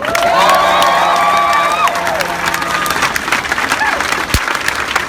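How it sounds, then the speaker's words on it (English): Rally crowd outside a police department applauding loudly and steadily, with cheers, whoops and shouted voices mixed in throughout, the clapping holding strong before thinning slightly toward the end. "Can we get one more round of applause for Black Love and Black Joy"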